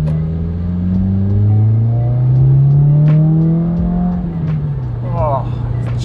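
A 2015-or-later Subaru WRX with an E-tune accelerates along a straight road, its engine drone rising steadily in pitch, loud and close from inside the car, easing off toward the end.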